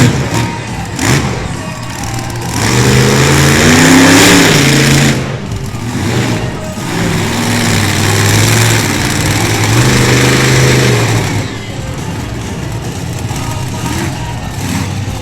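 Race vehicle engine at an Outlaw Nationals motorsports show in Miami, Oklahoma, revving hard and loud as it pops a wheelie on the back tire, with a sustained roaring drone that rises and falls through the run.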